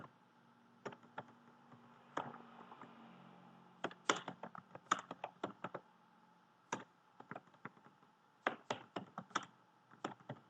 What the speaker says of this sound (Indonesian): saya ketikkan di sini untuk penyampaian informasinya.